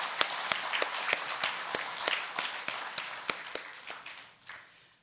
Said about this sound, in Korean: 우리 성가대를 위해서 한번 박수로 격려하겠습니다.